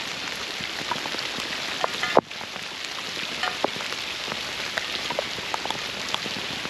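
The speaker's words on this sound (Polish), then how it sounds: "Jest ładna pogoda mnie przywitała, deszcz." Steady rain patters on a surface close by in a forest, a constant hiss of drops with scattered louder taps, briefly interrupted by a soft bump.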